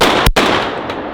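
A Benelli M4 gas-operated shotgun fired from the hip lets out a single loud, sharp blast, with a brief dropout right after the report before the ringing noise resumes.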